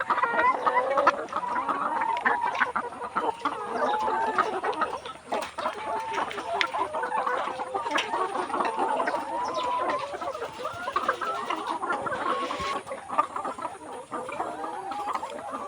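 A flock of 190-day-old layer hens on a farm clucks and chatters continuously, a dense, busy coop sound at steady volume with no clear talking.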